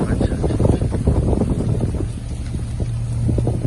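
A tourist boat cruising the Sundarbans, its engine a low steady drone with a constant hum, overlaid by wind buffeting the microphone and rushing water, loud and close, with no talk.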